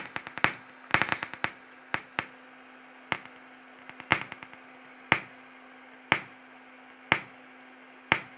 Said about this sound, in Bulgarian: Това е само пукане един херц.